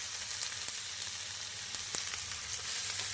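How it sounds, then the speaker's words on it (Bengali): Meat cooking in a pan with browned onion and garlic, a soft steady sizzle with faint scattered pops and occasional light clicks, with no talking. "আমার তো এখানে জনি মাংস রান্না হচ্ছে"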